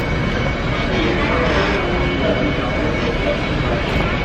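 A parked airplane's engines drone in a steady, loud broadband roar at an airport gate as passengers come off the plane, with no breaks across the clip.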